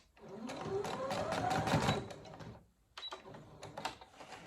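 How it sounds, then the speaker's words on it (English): A sewing machine back stitches a seam on a fabric gift bag, running close and steady for about two and a half seconds, then giving a few short stop-start bursts. "back stitch right here, right before"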